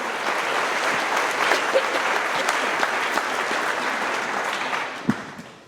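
An audience at a company's monthly trucking meeting applauds a Rookie of the Month, with dense steady clapping that holds throughout and fades slightly at the end, plus a few louder claps and faint cheers.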